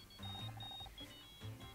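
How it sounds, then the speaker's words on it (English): A phone rings in the video game Murder by Numbers with a quick electronic trill of repeated bright beeps in two short bursts, very quiet and alone. "I think that's my phone."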